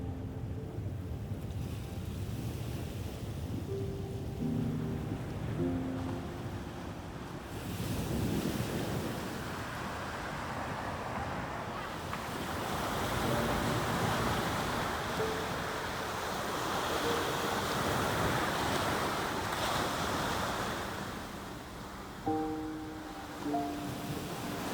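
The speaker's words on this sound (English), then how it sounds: "Let's go listen to the ocean for a second." Ocean surf rolling in under steady wind buffeting the microphone, a continuous broad wash of breaking waves swelling and easing over about twenty-five seconds, with no voices.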